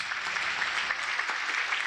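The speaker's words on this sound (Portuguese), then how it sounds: "E aplauda bem forte ao Senhor." A church congregation claps steadily and energetically, a dense wash of applause with no break.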